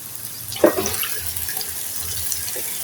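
Potatoes dropped into hot oil rendered from fried chicken skin, giving a brief hiss and crackle that settles into a steady, fairly loud sizzle, heard up close with no talk.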